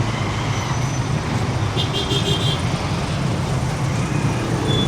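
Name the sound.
traffic jam in Kampala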